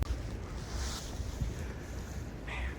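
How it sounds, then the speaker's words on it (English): Blizzard wind blows steadily in Cheyenne, a broad, continuous rushing roar with buffeting gusts against the microphone and no voices. "The wind is blowing."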